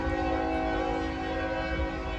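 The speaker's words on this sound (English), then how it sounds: "Oh, of course the train's going." A train goes by near a parked 1978 Chevy C10 Squarebody pickup, giving a steady, loud rumble with sustained horn-like tones that run through the whole stretch without pause.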